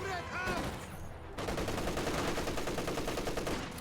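Sustained machine gun fire in the real-time strategy game Company of Heroes 2, a dense rapid rattle that starts after a brief lull with other gunfire and a faint voice, then continues loud and steady to the end.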